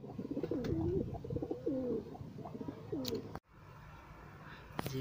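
Pigeons coo in a soft, rolling series of low calls, several birds close by in a loft after feeding, over a steady murmur of background noise.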